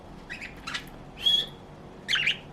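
Budgies giving a few short, bright chirps and tweets against a quiet room background, with a clearer, louder call near the middle and another at the end.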